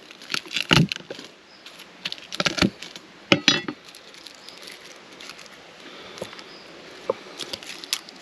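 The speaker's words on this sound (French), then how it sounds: "je vais couper mes 3 gousses d'ail." A knife cuts three garlic cloves on a board while cooking in a camping-car, giving scattered sharp taps and scraping knocks at an irregular pace, close and fairly loud against a quiet background with no speech.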